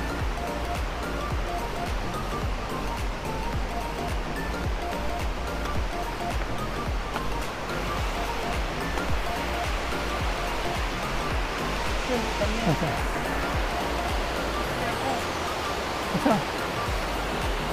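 Bega Falls in Prosperidad, Agusan del Sur, a tropical waterfall with clear water, roars in a loud, unbroken rush of falling and churning water that fills the whole scene.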